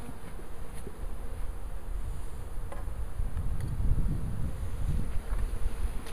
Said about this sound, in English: lots of bees are in here on the bottom